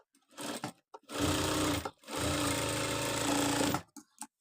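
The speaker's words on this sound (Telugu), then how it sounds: "ఒకసారి కుట్టు కూడా వేసి చూపిస్తా చూడండి" A sewing machine stitches a garment front panel in two close bursts of rapid, steady needle chatter, the longer second run lasting about two seconds, with brief quiet handling between.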